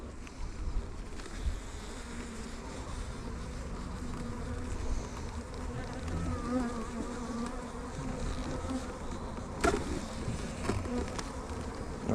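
Honeybees buzzing around an open hive during a weekly farm hive inspection, a steady close swarm drone lasting throughout with occasional louder passes near the ear and no talking.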